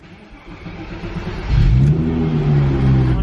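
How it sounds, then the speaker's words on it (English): A Porsche 987 Boxster S engine cranks over briefly, then catches and fires up with a sudden surge before settling into a steady close idle, with no voices. "First startup with the new and improved cheap 987 Boxster in 3, 2, 1."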